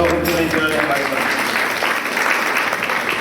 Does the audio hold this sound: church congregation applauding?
yes